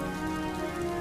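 Steady rain patters on a surface in a cartoon story setting, a continuous even hiss with no voices or thunder.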